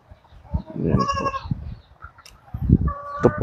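A few goats bleat close by, short wavering cries overlapping in quick succession over a quiet background.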